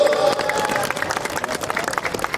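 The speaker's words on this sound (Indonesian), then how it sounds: "tepuk tangan dulu" Applause and crowd noise from an audience at a marching band farewell concert in Sidrap, a dense, steady wash of clapping throughout, with a sustained tone and a voice faintly underneath.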